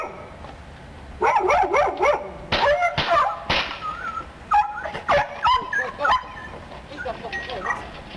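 Dog barking and yelping in a played crime video where the dog is shot, loud frantic barks and whimpering yips in rapid bursts, with voices mixed in.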